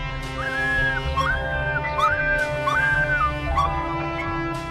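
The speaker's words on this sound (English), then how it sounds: "She whimpered alone on the street, looking for her mother, but could not find her." A lost puppy alone on a street whimpers in a series of high, thin, drawn-out whines, close up, repeating about five times over a low background hum.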